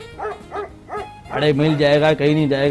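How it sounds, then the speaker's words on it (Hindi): A dog barks three short times in the background of a comedy stage show, then someone talks loudly over the scene. "अरे पीछे भी कुत्ता ही भौंक रहा है"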